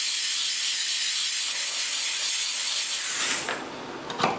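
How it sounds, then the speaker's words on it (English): A steamer sprays hot steam over a vinyl record being cleaned, a loud, steady hiss that cuts off after about three seconds, then brief handling sounds. "Take my steam, add water to it, heat it up a little bit."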